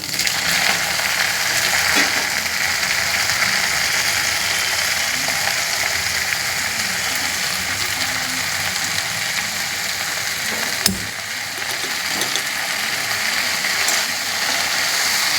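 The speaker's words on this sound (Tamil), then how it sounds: "புளிச்சக்கீரை தம்மியில் இதை எண்ணெயில் போட்டு வதக்கணும்." Gongura leaves sauté in hot oil, giving a steady, bright sizzle that runs the whole time at an even level, close by with no voices.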